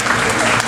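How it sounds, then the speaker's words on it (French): Audience clapping for a magician at a magic show, a loud, dense burst of applause filling the short moment, with voices mixed in. "applaudissez encore Daniel"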